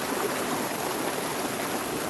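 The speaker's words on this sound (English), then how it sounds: "The waterfall is really, really nice. Because it's like an actual waterfall." A waterfall pours in a steady, unbroken rush of water that stays loud and even throughout, with no voices over it.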